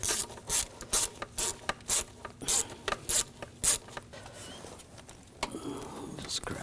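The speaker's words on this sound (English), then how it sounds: "use a 6mm socket, and loosen up this clamp right here on the throttle body" A ratchet with a 6mm socket loosens the throttle body hose clamp on a 2007-2013 BMW 328i 3.0L inline-six, giving a run of sharp, evenly spaced clicks up close, then softer rubbing and handling noises.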